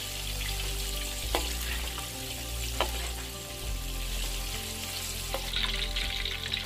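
Steady, loud sizzling of chicken deep frying in hot oil, with a few sharp pops and clinks breaking through.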